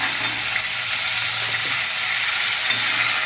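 Potatoes being stirred and fried in a pan for Maharashtrian batata bhaji with curry leaves, a steady loud hiss of frying running throughout with the faint scrape of stirring underneath, no voices.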